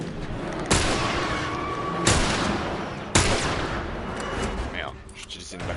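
Three loud, sharply separated gunshots ring out in The Last of Us, each a hard crack with a decaying echo, spaced about a second apart before the scene quiets.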